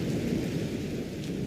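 Thunder rumbles through a night storm with rain, a deep, steady, loud roll filling the whole stretch without a sharp single crack standing out.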